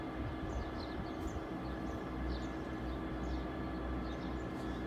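A Northern passenger train on the Sheffield service rolls past a level crossing, making a steady, fairly loud low rumble that holds throughout, with faint higher chirps over it.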